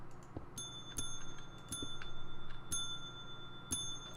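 Bells in the Minecraft FTB Infinity video game ring in a loose, irregular pattern of bright, short chimes, five or six strikes over a low background hum, with no talking.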